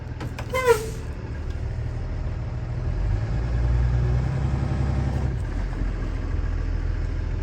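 A school bus engine held in neutral on the parking brake grows in a steady, loud rumble. A brief hiss and squeal come at the start, and the engine drops back to idle near the end.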